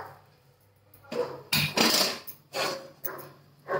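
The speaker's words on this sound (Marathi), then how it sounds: "गॅसवर पॅन ठेवले" A pan is set down on a gas stove before dry-roasting horse gram, giving a few separate clattering metallic knocks spread over a few seconds, moderately loud against a quiet room.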